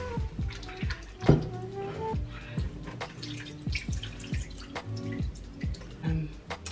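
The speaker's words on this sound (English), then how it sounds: "I'm just going to wash this away, dry my meat" Meat is rinsed under running water at a kitchen sink in winter cooking, with repeated splashing and dripping hits in an irregular rhythm, close and moderately loud, with light background sounds.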